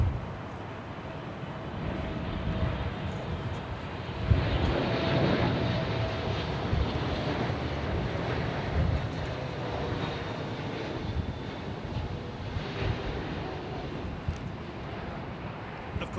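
A jet airliner on approach to London Heathrow in gusty, windy conditions, a steady broad engine roar with wind buffeting, swelling slightly mid-way and holding for the whole stretch, fairly distant with no voices.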